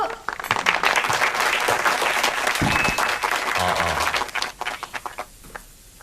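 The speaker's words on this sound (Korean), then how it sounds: "박수!" Applause from guests at a dinner gathering, brisk clapping with some voices mixed in, holding strong before thinning into a few scattered claps at the end.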